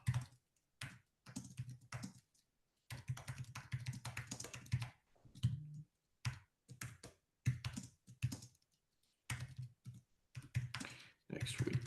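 Someone types on a computer keyboard in irregular bursts of quick key taps, separated by short silences, close to the microphone.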